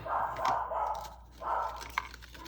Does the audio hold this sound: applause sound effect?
no